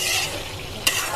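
Chicken being stirred and sautéed in a hot pan, a steady sizzle with a brief scraping stir of a utensil near the end, close and fairly loud, with no voices.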